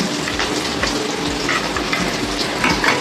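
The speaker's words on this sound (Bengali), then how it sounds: "আলুটা একটু আদা ভাজা হোক" Potatoes frying in a pan, a loud continuous sizzle with occasional scraping stirs, close up and alone.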